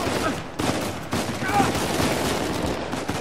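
Scattered gunfire and bursts of shots during a firefight in Uncharted 4, moderately loud against busy game background noise, with some overlapping voices.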